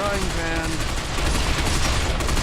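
Minigun fire from two gunners in the video game Binary Domain forms a dense, unbroken rattling fusillade that stays loud throughout, with a voice talking briefly at the start.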